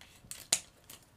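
Scissors snip through a paper card template, giving a few short, crisp cuts with one sharp, louder snip in the middle, close and quiet, with no talking.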